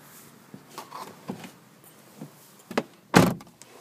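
Driver's side door of a worn 2002 Toyota Camry LE being handled as someone gets into the car: a few soft clicks and rustles, then one loud latch-and-thud close up near the end, no talking.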